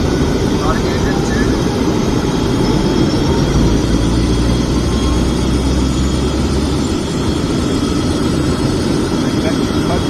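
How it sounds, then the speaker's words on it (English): A Bell 430 helicopter's turbine engine starts on a Titan-Box ground power unit, a loud, steady roar and whine filling the space, with a low rumble easing near the end as a voice talks over it. "Starting engine"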